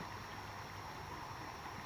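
A river flows past in a steady, soft rushing wash of water, continuous and fairly close with no clear ripples standing out and no voices.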